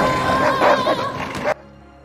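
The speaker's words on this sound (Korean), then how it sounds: "갑자기 어디선가 나타난 달마시안들이 으르렁대면서 에스텔라에게 무섭게 달려듭니다" Dalmatians from the film Cruella, heard as a close, loud tangle of yipping barks and whimpering growls in a scene, cutting off abruptly near the end.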